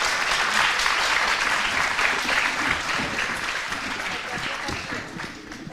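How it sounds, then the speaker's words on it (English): Forum audience at a Romanian business services awards event applauding the panel, dense sustained clapping from a large room that holds steady and then eases slightly toward the end. "A round of applause for our panel."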